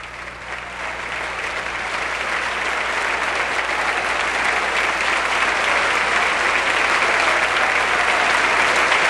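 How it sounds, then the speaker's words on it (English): Sustained, enthusiastic applause fills the U.S. Congress chamber as President Cory Aquino enters, a dense, steady roar of many hands building slightly and holding loud throughout. "And you can hear the sustained and very enthusiastic applause"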